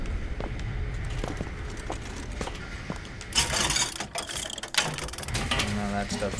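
A gun reloaded in BioShock Infinite: mechanical clicks and ratcheting metal handling, then a louder clattering burst of mechanism noise, close and busy with game sound underneath.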